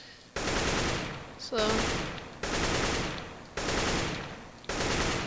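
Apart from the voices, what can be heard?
gunfire from a video game, CS:GO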